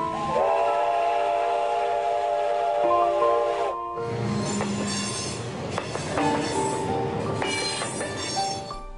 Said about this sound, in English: The sound of a locomotive whistle echoes through the hills.